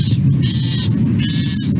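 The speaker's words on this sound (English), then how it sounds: "Loggerhead shrikes also scold." A loggerhead shrike gives its scold call at Texas Point, two close, loud, harsh buzzy notes separated by a short pause.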